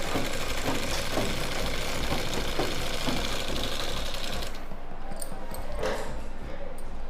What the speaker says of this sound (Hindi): यहाँ से सिलाई स्टार्ट करेंगे। इस सिलाई को हम ऊपर तक कंप्लीट कर देंगे।